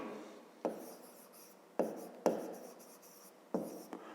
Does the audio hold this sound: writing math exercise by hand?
yes